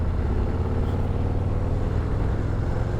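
Harley-Davidson motorcycle riding on the 24 Hours of Le Mans circuit, a steady loud low engine drone held throughout with no breaks or speech.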